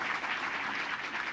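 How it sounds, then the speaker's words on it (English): An in-person audience at an evening women-in-tech event gives a round of applause, a continuous, fairly faint wash of clapping with no voices over it. "A huge round of applause."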